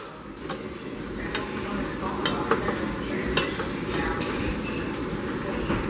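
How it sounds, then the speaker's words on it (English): Rice and vegetables cooking in hot skillets in a home kitchen, a soft steady sizzle with scattered clinks of utensils against the pans, fairly quiet and close. "I got the skillets hot, making some rice and vegetables to go with this chicken breast."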